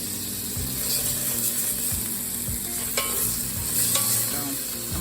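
Chopped cabbage and bacon frying in a pan, a steady close sizzle with scraping stirs and a few clinks of a utensil against the pan, no voices.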